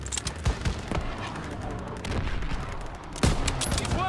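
Rapid rifle and machine-gun fire in the Call of Duty WW2 story mode, a dense crackling fusillade of close and distant shots with a few heavier cracks, continuous throughout.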